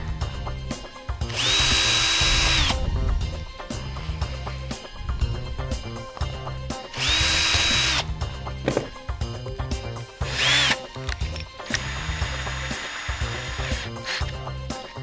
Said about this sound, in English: drill the 4 holes on this piece of wood